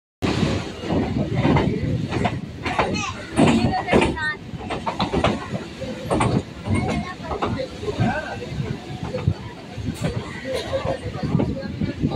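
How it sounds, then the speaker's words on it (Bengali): A Kolkata local train pulling out of Sovabazar Ahiritola station runs along the rails by the Hooghly river, with steady rumble and clatter under continuous passenger chatter. "আমাদের ট্রেন এখন শোভাবাজার আহিরিটলা স্টেশন ছেড়ে বেরিয়ে যাচ্ছে।"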